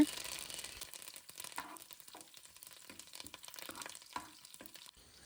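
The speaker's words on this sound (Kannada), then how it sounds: "ಸೊ ಒಂದು ಸ್ವಲ್ಪ ಕೊಕೊನಟ್ ಆಯಿಲ್ ಸೇರಿಸ್ಕೊಂಡು ಬೆಳ್ಳುಳ್ಳಿ, ಸಾಸಿವೆ ಮತ್ತು ಕರಿಬೇವು ಇದನ್ನೆಲ್ಲ ಸೇರಿಸ್ಕೊತಾ ಇದ್ದಾರೆ." Garlic, mustard seeds and curry leaves fry in coconut oil for a village-style banana stem curry, a soft steady sizzle with intermittent scraping stirs, fairly quiet and close.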